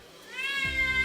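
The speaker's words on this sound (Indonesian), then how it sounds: "Kalau suara kucing ini pengen gak nih? Kucing yang menyamar jadi Godzilla." An angry cat's played recording rises into a loud, close, harmonic yowl that turns into a rough growling caterwaul, with no speech over it.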